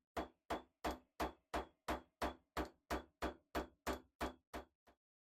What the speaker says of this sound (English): Setting it on my steel bench block and hammering away.